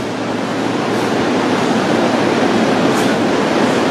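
London Underground District line train pulling out of Fulham Broadway station late at night, a steady loud rumble and roar that holds throughout with faint higher squeals near the end.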